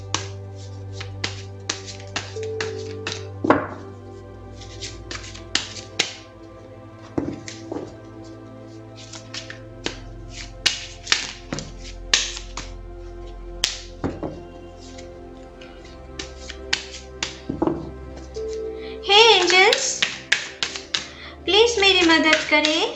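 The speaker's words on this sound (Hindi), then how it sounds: "तो चलिए पहले ज़रा कार्ड्स को शफल कर लेते हैं।" Tarot cards are shuffled in quick, crisp, riffling taps and flutters, close and fairly loud, with a rustling burst of shuffling near the end. Background music plays underneath.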